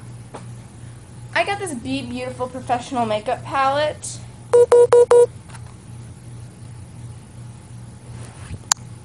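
A phone sounds a quick series of about five loud, evenly spaced electronic beeps. Someone talks just before, and a faint hum runs underneath.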